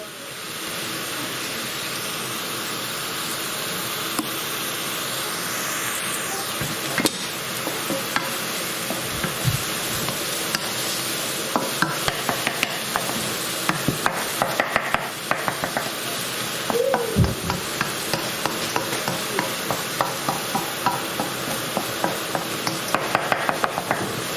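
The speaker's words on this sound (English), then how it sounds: "Keep stirring it. Again, you want to make sure that the onions don't burn" Chopped onions fry in a pan with bay leaves and cardamom, hissing in a steady sizzle while a utensil stirs and scrapes, its taps growing frequent and rhythmic in the second half.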